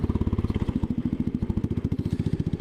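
A Royal Enfield Classic 500 single-cylinder motorcycle, Euro 3 version, runs steadily close by, its low engine beat thumping in an even, rapid pulse throughout with a slight mechanical clatter.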